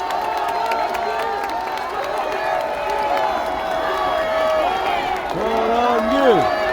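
A large crowd at the Save Korea rally in Yeouido, Seoul, applauds and cheers in a continuous roar, with voices calling out and shouting through it and rising toward the end.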